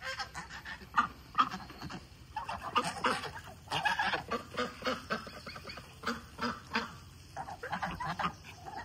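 Pekin ducks and geese at a rural farm at dusk, a flock honking and quacking in repeated close bursts, some calls overlapping, with brief quiet gaps between them.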